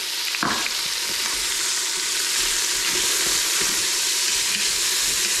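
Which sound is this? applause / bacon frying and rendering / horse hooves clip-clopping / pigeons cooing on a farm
bacon frying and rendering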